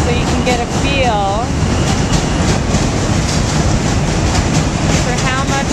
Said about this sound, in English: the trains are coming, and the bridge is rocking and rolling